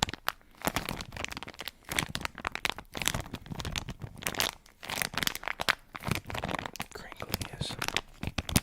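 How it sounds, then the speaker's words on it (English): Dense, continuous crinkling and crackling of material as an ASMR trigger, close and steady with rapid irregular crunches throughout. "Crinkling is another beloved trigger for obvious reasons."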